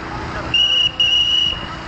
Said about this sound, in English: 2 whistles is 10 seconds.